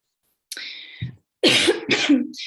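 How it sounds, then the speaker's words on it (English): Several harsh coughs from a single nearby person with a chronic cough: one short cough, a pause, then two louder bursts in quick succession. "Sorry, I have a chronic cough."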